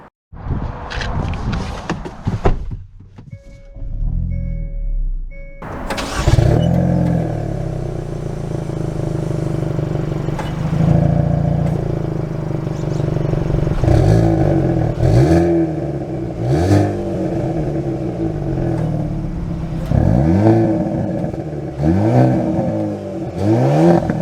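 A 2022 Hyundai Kona N performance SUV pulls away and accelerates, its engine revving loudly through repeated rising sweeps as it shifts up, with clattering, whirring mechanical noise close by.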